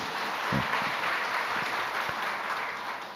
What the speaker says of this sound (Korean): 하나님께 감사의 박수 드려야 돼요.